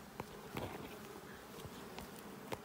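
Honeybees working at the supers of a beehive, a steady, soft buzzing swarm close by with occasional brief sharp ticks and bumps, no talking.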